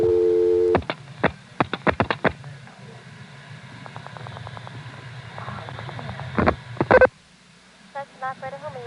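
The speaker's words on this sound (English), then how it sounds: "Here's a recording of calling 311, a vacant code, in 1973" A 1973 call to vacant code 311 on a senderized XY step switch in Occoquan, Virginia: bursts of tone, a rapid string of dial pulses and clicks, a pause, more pulsing, then the line drops to quiet.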